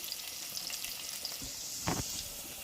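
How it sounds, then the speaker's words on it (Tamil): Chopped onions, shallots and garlic sauté in hot oil with a steady close sizzle, broken by a few scraping stirs of the pan. "இதோட சேர்த்துக்கிட்டு இது கொஞ்சம் பொன்னிறமாக வர வரைக்கும் வதக்கிக்கலாம்"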